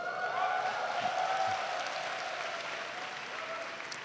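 A congregation at a summer retreat morning worship gathering claps together, a steady wash of applause under a sustained musical tone, moderately loud and fairly even throughout.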